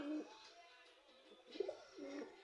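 Soft pigeon coos from Sirazi and local pigeons at a nest with a newly hatched chick, heard as a few low, faint, rounded calls in short bursts with quiet gaps between them.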